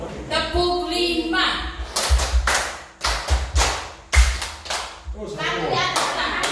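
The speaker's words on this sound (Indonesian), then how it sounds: "ini tepuk 5 ya. Kiri 2 kali, ke kanan 2 kali, 1 ke atas." Group of school staff clapping a rhythmic five-clap pattern during a positive-culture training session, sharp bursts arriving in quick clusters with pauses between, with a leader speaking in between rounds.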